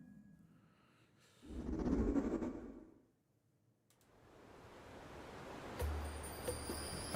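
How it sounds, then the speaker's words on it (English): Ocean waves from a Donkey Kong video game trailer wash in as a rising surge of broad noise, fade briefly to near quiet, then build again into a steady rolling roar with a low rumble near the end. "I heard the waves and I got freaked out."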